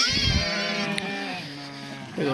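Sheep bleating in a farm yard in Telangana, a steady wavering bleat heard clearly and fairly close, with low background noise and no talk.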